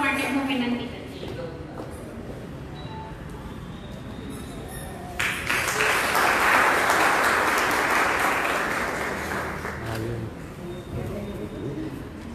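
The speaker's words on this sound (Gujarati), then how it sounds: "હું તાળીઓના ગડગડાટથી સ્વાગત કરીએ છીએ" Audience applause at an award ceremony in a Surat hall, a broad burst of clapping that swells partway through, holds strongly for several seconds and then tapers off, with some talk and room noise before it starts.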